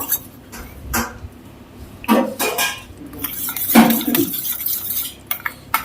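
A spoon stirs green chilli sauce in a bowl in a home kitchen, giving a few irregular clinks and scrapes against the dish, moderately close with quiet pauses between strokes.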